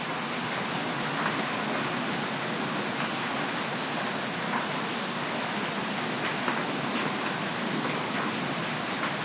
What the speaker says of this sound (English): It sounds like hail.